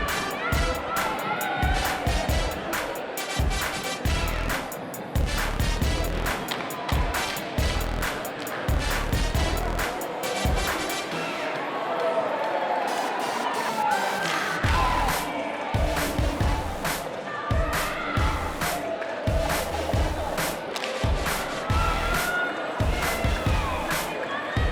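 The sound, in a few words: Marysville cheer team cheering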